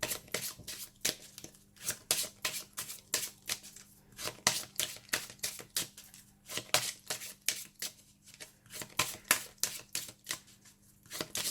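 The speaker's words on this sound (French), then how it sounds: "Donc on mélange bien et toujours on piochera 3 cartes dans cet oracle." Oracle cards riffled and mixed by hand during a daily reading, a quick series of crisp papery slaps and flutters in rapid bursts, close and fairly loud, with no talking.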